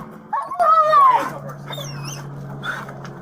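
A police dog whimpers and yelps during an arrest by San Jose officers, with high whining cries up front and a fainter whine later over a steady low hum.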